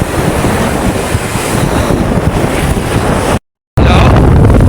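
A small wooden boat crosses rough, choppy sea, with strong wind buffeting the mic and a continuous roar of engine and waves, cut by a brief dropout near the end.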